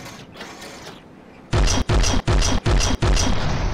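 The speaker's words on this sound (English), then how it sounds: "So let's test fire this new weapon." An upgraded gun in the From The Depths video game fires in five heavy, booming mechanical bursts in quick rhythmic succession, loud and close, after a quieter stretch of low ambient rumble.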